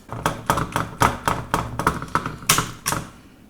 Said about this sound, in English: Now, let's have this cover back.